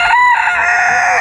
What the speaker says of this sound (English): And they got the Silkies, but they're all roosters.